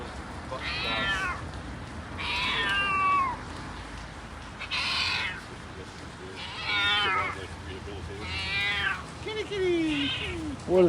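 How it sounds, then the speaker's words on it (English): A cat rescued from a house fire meows in loud, drawn-out, distressed calls, about five or six at a fairly even pace. The calls are close, over a muffled background with some voices. "I thought I heard a cat."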